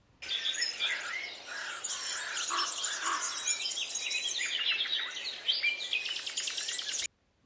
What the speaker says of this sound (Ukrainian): Так, це пташки співають.